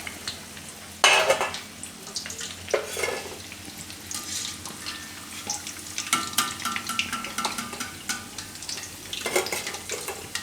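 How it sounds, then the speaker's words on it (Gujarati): Raw banana kofta fry in oil with a steady bubbling sizzle, broken by louder bursts of stirring and scraping against the pan, plus occasional utensil clinks, close up and without speech. "તો કોફતા આપણે બધાએ તળી લીધા સારી રીતના એકદમ સરસ"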